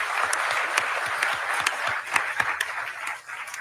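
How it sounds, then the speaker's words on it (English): Audience applause during a live talk-show event, steady mid-volume clapping with scattered louder individual claps, sustained through the short stretch without speech. "Give them a big round of applause."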